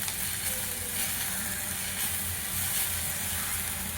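Soaked poha with onion and peas being stirred in a frying pan, giving a steady, even sizzle and scraping hiss with no voices.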